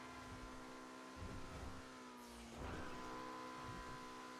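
Emperor ETR1 car engine in GTA Online, a steady sustained engine tone with rising and falling revs and a brief tire squeal midway, loud and continuous with no talking.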